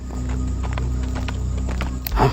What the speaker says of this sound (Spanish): Un caballo escucho por aquí.